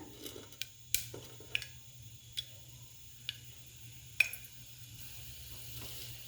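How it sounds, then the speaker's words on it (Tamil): Cinnamon and cloves in hot oil in a pressure cooker on the stove, heard as faint, sparse crackling pops and ticks spaced irregularly over a quiet low hum. "குக்கர் அடுப்பில் வச்சுட்டு தேவையான அளவு ஆயில் ஊற்றிக்கலாம் அது கூடவே பட்டையும் கிராம்பும் சேர்த்துக்கிறேன்"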